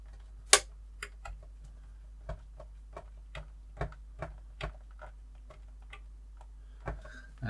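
A screw is driven into a Ghostbusters Ecto-1 model car kit by hand, giving sparse, sharp little ticks and clicks at irregular intervals over a low steady hum, with one louder snap near the start.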